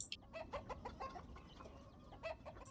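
Chickens clucking in a coop in the Ostriv village-building game: quiet, steady clucks and soft calls repeat in a loose rhythm, with no talk.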